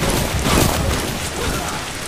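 Acid rain in a survival video game pours down heavily, a dense hiss of drops on surfaces with a low rumbling swell, steady and close.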